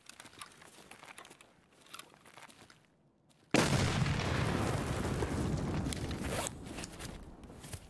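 A grenade going off in a shooter video game, a sudden loud broadband blast after quieter rustling, followed by a sustained rumbling roar that tapers off, with no talking.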